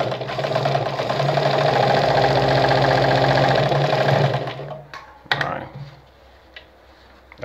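A Vigorelli ZZ/A robot sewing machine stitching fabric runs with a loud, steady mechanical whir and ticking for about four seconds, then stops, leaving a few clicks and handling noises close by.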